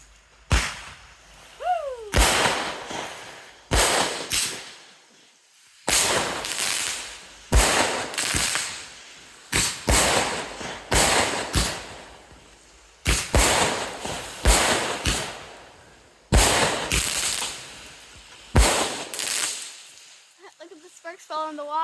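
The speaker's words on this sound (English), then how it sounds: "It's Christmas night, and we are lighting fireworks." Loud fireworks and firecrackers burst one after another on Christmas night in Sulawesi, Indonesia, each booming bang followed by crackling that fades, with brief whistles and distant voices between.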